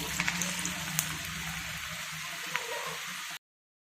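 Thalipeeth vada frying in hot oil gives a steady, loud sizzling hiss with occasional small pops, continuous until it cuts off abruptly.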